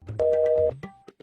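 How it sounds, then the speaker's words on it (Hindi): A telephone call placed, with a brief steady dual-pitched ring tone lasting about half a second, close and clear, followed by a few short electronic blips. "अभी फोन करते हम टकला नेता को"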